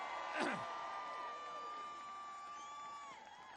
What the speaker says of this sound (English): let's say a big cheer for all the NHS workers and what they do